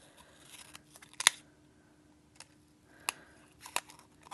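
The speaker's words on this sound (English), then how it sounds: "I need to get longer scissors so I can do like one straight cut" Scissors snip through paper in a few sparse, crisp cuts, close and quiet, spaced irregularly with soft handling rustle between them while planner layouts are trimmed.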